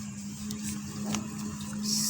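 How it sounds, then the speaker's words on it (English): A sewing machine stitches fabric for a long flared skirt, giving a steady, continuous motor hum with a faint mechanical whir that holds evenly for about two seconds, alone and fairly close. "I'm going to the sewing machine now."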